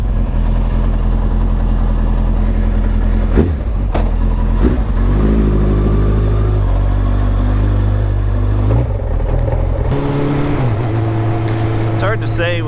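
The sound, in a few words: Suzuki Bandit motorcycle engine idling after jet kit install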